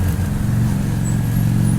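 A 1995 Honda 600 Shadow VT's engine drones steadily underneath while riding, a low continuous rumble heard up close with road and wind noise over it.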